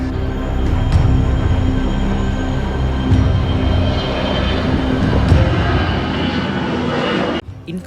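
Four Israeli Air Force C-130 Hercules transport planes take off from Sharm el-Sheikh airport with a loud, sustained propeller-engine roar and a rough, throbbing drone that holds steady and then cuts off sharply near the end.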